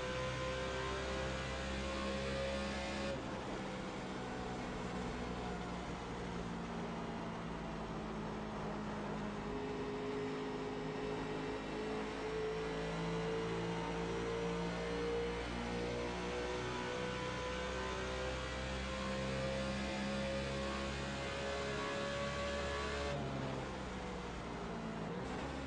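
NASCAR Nationwide race car engine in the iRacing game at Twin Ring Motegi, a continuous droning roar with steady harmonic pitch that slowly rises and falls, with no voices over it.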